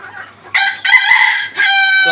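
Malaysian Serama, the smallest chicken breed, crowing up close in a few short, bright bursts with brief pauses between calls.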